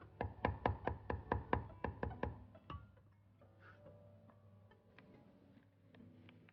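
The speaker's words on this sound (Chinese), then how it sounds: "生姜一小块拍破，然后切碎即可。" A knife chops a small piece of crushed ginger on a board, about ten quick, evenly spaced taps in a fast run, then a few scattered softer knocks and handling noises before it goes quiet.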